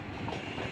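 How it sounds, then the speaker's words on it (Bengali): A Dhaka-bound train rumbles past close by in a brief, steady burst of rolling wheel and carriage noise. "তো যেতে যেতেই ঢাকামুখী একটি ট্রেন"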